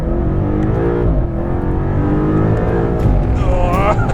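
A 2021 BMW M5 Competition's engine roars loudly and continuously, its pitch climbing as it accelerates through the gears, heard up close.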